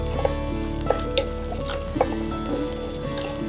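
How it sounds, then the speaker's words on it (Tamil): Spices roasting in a pan over a low flame, with a steady dry sizzle and a few soft scraping stirs at intervals, close and moderately loud, no voices. "இதையெல்லாம் சேர்த்து நல்லா வறுத்துடும் கருகாமல் வறுக்கணும்"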